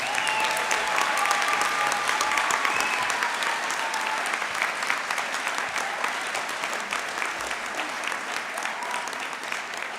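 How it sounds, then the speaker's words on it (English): An audience at a National Honor Society induction ceremony applauds its new members with sustained, dense clapping that fills the room, loud at first and easing slightly toward the end, with no speech over it. "please join me one more time in applauding all of our new National Honor Society members"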